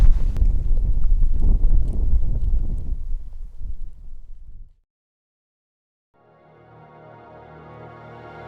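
Strong wind gusts roar against a fire lookout on a snowy mountain, loud and buffeting for several seconds before cutting to silence, followed by a quieter steady tone.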